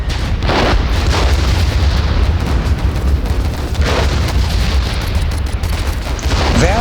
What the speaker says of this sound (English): Send out the artillery.